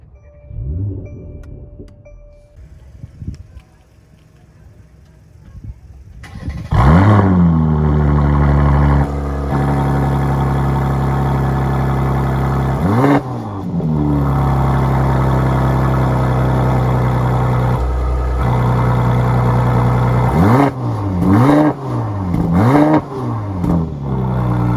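A 2021 Mercedes-AMG C43 fires up with its exhaust valve open, settling into a steady idle broken by several sharp, loud revs that rise and fall close by, with no talking.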